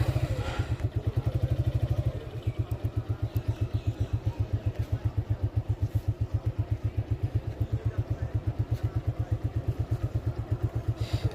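A Suzuki Gixxer motorcycle ridden across a university campus in Rajshahi, its engine loud and close with a steady, fast thumping exhaust pulse throughout, a brief lighter idle-like stretch at the start.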